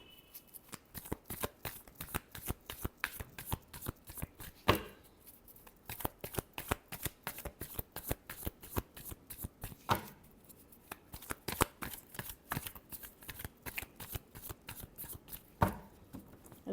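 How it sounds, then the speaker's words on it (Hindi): Tarot cards are shuffled by hand in a long run of crisp rapid riffling flicks, close and steady, with a few sharper slaps between bursts. "Last shuffle."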